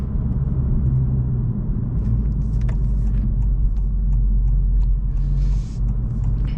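A car driving along with a continuous low engine rumble and road noise, loud and close from inside the cabin, holding steady with little change in pitch.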